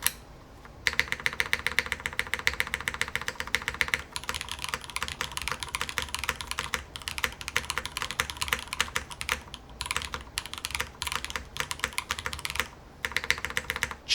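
Rapid, steady clacking of a mechanical keyboard with Cherry switches, keys struck in quick continuous bursts close up, with a few brief pauses and no talking.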